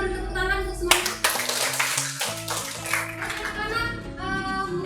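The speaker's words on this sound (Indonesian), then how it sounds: "Kita beri tepuk tangan untuk semuanya." Students in a classroom clap for their classmates after a pro and con group discussion, a short burst of hand clapping over a soft background of steady musical tones.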